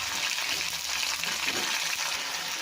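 Chopped onion hitting a hot pan with garlic paste for a fish curry, a steady, close, loud hiss of frying that holds without a break and has no talking over it.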